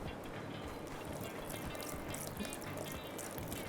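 Water is poured gradually into a bowl of patty batter seasoned with salt and soda and stirred in, giving faint, close sloshing and squishing with soft drips.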